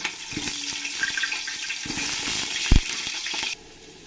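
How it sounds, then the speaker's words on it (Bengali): Potatoes browning in hot oil in a pan for chicken biryani, a steady broadband frying hiss with a few clinks and scrapes and one brief thud, cutting off sharply near the end. "এবার আমি আলুগুলো আমি লাল লাল করে বেশ ভেজে নেব।"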